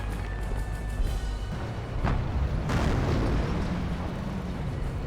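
Werfer rocket artillery barrage in Company of Heroes 1, with a dense, rumbling bed of booming explosions and two sharper blasts bursting out near the middle of the volley.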